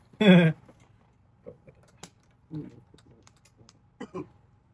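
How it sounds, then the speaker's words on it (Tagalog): A single loud, harsh cough bursts out near the start, followed by quieter scattered clicks and a few soft throaty sounds. "Umubo na naman."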